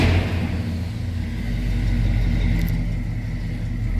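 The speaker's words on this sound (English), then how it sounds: "Nice little rumble out of that V8." A 1979 Chevrolet K10 Scottsdale 4x4 shortbox pickup's 400 small block V8 runs right after starting, a loud, steady low idle rumble heard up close and continuous throughout.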